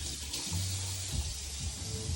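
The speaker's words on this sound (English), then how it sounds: "add some water, just a little bit" Water being poured into a roasting pan under a spatchcocked bird makes a steady, soft splashing flow that runs continuously and fairly quietly throughout.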